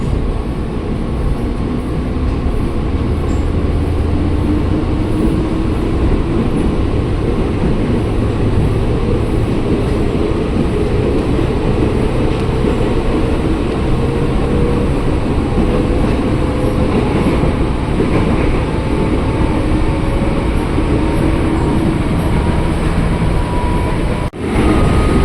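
A KRL commuter train riding out from Metland Telaga Murni station toward Cikarang, with a steady loud interior rumble and rising motor whine that continue unbroken throughout.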